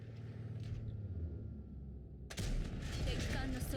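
Tank gunfire in World of Tanks Blitz, with a P43 heavy tank coming under fire: a low engine rumble gives way to one sudden, loud blast, then a rough, crackling wash of battle noise that stays loud to the end.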